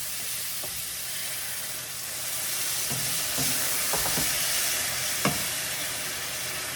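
Potatoes frying in hot oil in a pan for a pangas fish curry, a steady loud sizzle and hiss with a few sharp pops and scrapes of stirring, close by.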